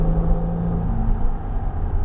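A 2016 Range Rover TDV6 diesel accelerating under load, a steady low engine rumble and drone heard from inside the cabin, dropping gears smoothly, with no talk over it.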